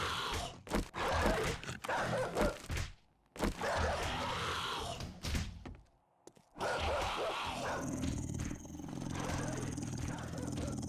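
A hostile dog in the zombie survival game 7 Days to Die growls and snarls in rough, roaring bursts within constant game noise, separated by short quiet gaps.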